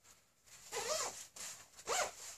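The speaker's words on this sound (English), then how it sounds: "Not as good with the left-handed zippers." A softshell jacket zipper is pulled up in two quick rasping strokes with a pause between them, close and fairly quiet, with no talking.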